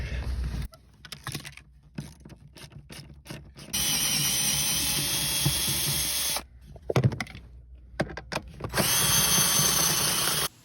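A power tool spins bolts out of a seat in a 2006 Honda CR-V: short bursts of whirring and ratcheting, then two longer steady high-pitched runs, separated by brief pauses and clanks, heard close up.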